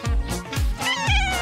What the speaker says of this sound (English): Ooh, a kitty.